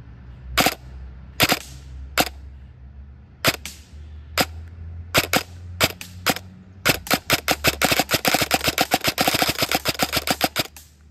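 A toy gun with its trigger screw adjusted for a lighter pull fires sharp, snappy cracks, a few spaced single shots at first, then a fast, nearly continuous rapid-fire burst close to the mic.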